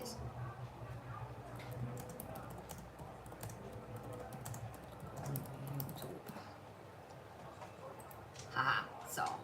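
Rapid, continuous typing on a computer keyboard, dense soft keystrokes running throughout at close range, with a muffled low background and a few louder taps near the end.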